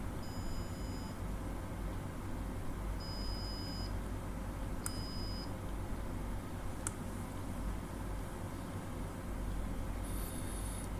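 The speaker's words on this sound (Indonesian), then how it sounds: "sekarang kalau kena garis putih dia men-trigger LED warna hijau dan buzzer" A mini sumo robot with infrared sensors gives short, thin electronic buzzer beeps as its sensor crosses a white line. Three or four brief, spaced tones sound over a steady background hiss, with a couple of sharp clicks between them.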